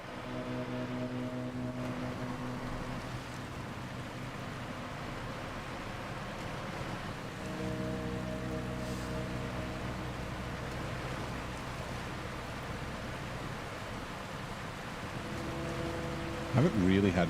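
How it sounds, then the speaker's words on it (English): A truck in the SnowRunner video game crossing a waterfall, with a steady rushing water roar and a low engine hum throughout, a brief louder splash or thump near the end. "Driving across the waterfall."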